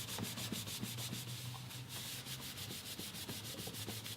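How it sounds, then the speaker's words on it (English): An oil finish rubbed and buffed by hand on a wooden guitar body: steady, close rhythmic rubbing strokes with a soft hiss, repeating evenly with no voices. "Need to put in some elbow grease to kind of buff everything out."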